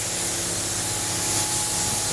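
Spray gun applying another coat of paint to the fenders of a 1938 SS Jaguar 3½ litre drophead under restoration: a loud, close, continuous hissing spray with a low compressor-like hum underneath, steady throughout.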